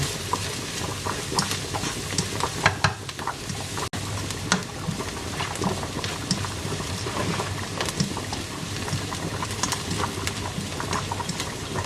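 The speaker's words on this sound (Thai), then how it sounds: "ใส่กระเทียมลงไปผัดให้หอม" Garlic stir-frying in a pan for seafood spaghetti, a dense continuous bubbling sizzle with light crackles and occasional stirring clicks, steady and fairly close throughout.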